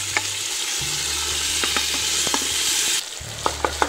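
Cooked bamboo rice being stirred into a pot of payasam flavored with cardamom, a spoon scraping repeatedly over a steady hiss, with several sharp clinks near the end and no talking.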